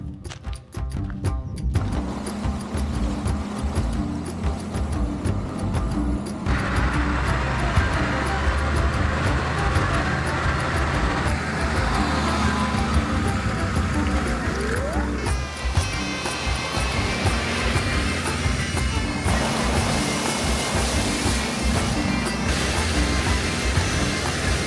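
An overland expedition truck grinds along a rough off-road track in 4-wheel drive on Morocco's northwest coast, a steady loud engine drone with rattles and bumps throughout, and some voices here and there.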